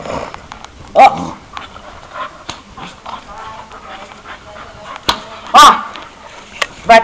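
Playful dogs, a German Shepherd and an American Staffordshire Terrier, give a few sharp barks and yips spaced through the clip, with whimpering and soft movement noise between them, moderately close.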